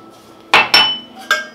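Metal cooking pot and utensils clinking in a kitchen while tea is being made, three sharp clanks close by, two in quick succession and one a moment later, with no talk.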